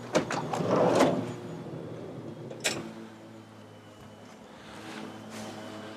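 The manual sliding door of a Honda Stepwagon RG1 minivan rolls along its track with a low rumble, then shuts with one sharp thud, followed by quiet background hum.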